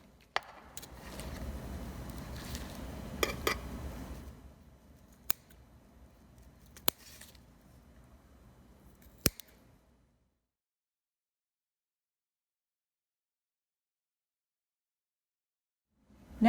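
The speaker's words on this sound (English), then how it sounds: "Using heavy scissors, we cut into the corners of the mouth." Heavy scissors cut through the cheek muscles at the corners of a rat's mouth during a dissection, giving a few sharp close snips over a low rustling handling noise, then near-silence for the rest.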